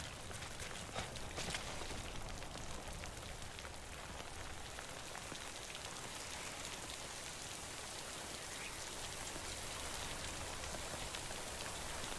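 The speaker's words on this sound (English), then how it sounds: "timefall damages cargo containers. Don't stay out in the rain any longer than you have to." Timefall rain in the video game Death Stranding, a dense steady patter of drops on the ground that stays even and continuous throughout with no talk over it.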